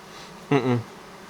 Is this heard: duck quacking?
no